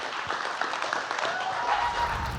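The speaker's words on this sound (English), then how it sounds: "Let's give James a round of applause." Audience applause for James Whittaker at a fireside chat event, a dense, even patter of clapping from a crowd held steady for a couple of seconds.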